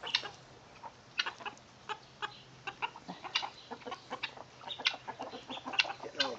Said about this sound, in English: Now listen to his crow.